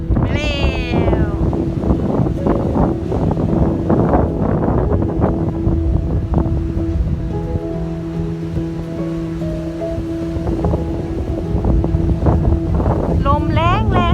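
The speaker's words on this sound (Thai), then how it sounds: "ลมแรงแรงจ้ะ" Strong wind buffets the microphone at a beach after rain, a loud continuous low rumble with surf underneath, while a cat meows at the start and end.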